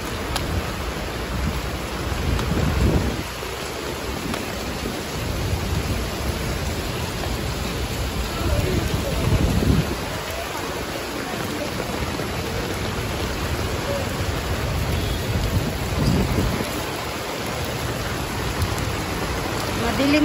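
Heavy typhoon rain pours steadily in Hong Kong during a Signal No. 3 storm, a loud dense roar with periodic low rumbles swelling underneath, and a voice faintly audible.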